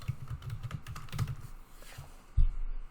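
Keys clatter on a computer keyboard while login credentials are entered during multi-factor authentication setup, a quick burst of close, light clicks with a pause and a final heavier tap, no voices.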